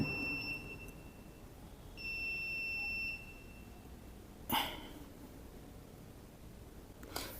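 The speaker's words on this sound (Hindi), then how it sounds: "अब ये देखिए ये बीप का अलार्म आने लगा" A high electronic beep tone from a DC regulated power supply's current-limit alarm sounds in two stretches, steady and piercing, with brief clicks afterward in an otherwise quiet room.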